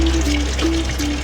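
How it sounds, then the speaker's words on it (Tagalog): Water is poured steadily from a container while a fish tank is moved for a mini aquaponics setup, a continuous close trickling splash with a faint tonal whistle running through it. "Bali ang tubig nito unti-unti kong nililipat para maibalik ko rin kaagad."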